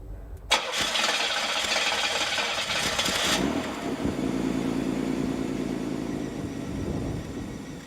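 A 1991 car engine, a 6000, cranks over and catches, then settles into a steady idle while it runs on a canister of fuel injection cleaner, close and continuous with no talk.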